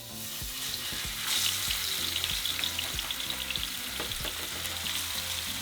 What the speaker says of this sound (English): once our oil is hot, we're going to add our pork chops